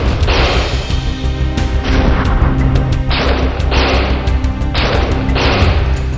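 In a village clash in Bherāmāri, Paruī, bombs burst and gunfire rings out in repeated loud, heavy blasts at a fairly regular pace. The bangs are close and sound with no talk over them.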